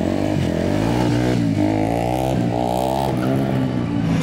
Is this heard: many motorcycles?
yes